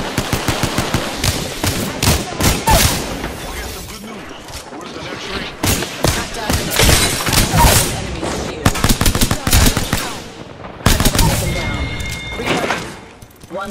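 Gunfire in the video game Apex Legends, loud bursts of automatic fire in rapid rattling volleys broken by brief pauses, with in-game voice callouts mixed in.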